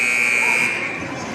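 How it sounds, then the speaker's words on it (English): Basketball game buzzer sounding during a timeout at a high school doubleheader, a loud sustained electronic tone in a gym that drops off after about a second, with crowd murmur beneath. "See, that buzzer went off."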